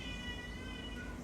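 A kitten lets out a single short, thin meow close by in a house, heard alone over a steady low background hum.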